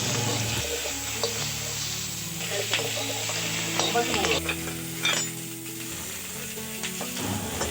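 Green chillies and taro pieces hiss and sizzle in hot oil in a wok just used for frying small fish, with a utensil stirring and scraping through a dense, crackling fry.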